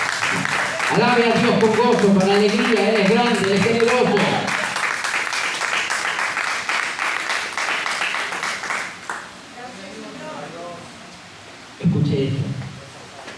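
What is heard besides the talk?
church congregation applause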